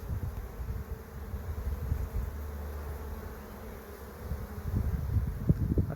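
Honey bees at an apiary hive, drawing comb in the top box and returning with pollen, make a steady low droning buzz close by that holds throughout and swells slightly toward the end, with no talking.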